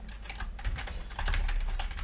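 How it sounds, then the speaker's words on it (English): Typing on a computer keyboard while entering a Neo4j Cypher query in C#: a steady run of quick, close, clicky keystrokes fills the short stretch, with no talk over it. "So let's start typing it."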